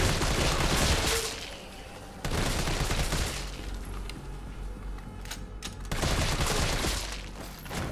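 Rapid, loud gunfire in the Resident Evil 3 video game comes in sustained bursts with brief lulls, continuous and close throughout.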